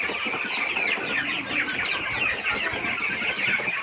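A flock of chickens stirring excitedly after being fed, keeping up a dense, unbroken chorus of clucks and squawks close by, with no voices.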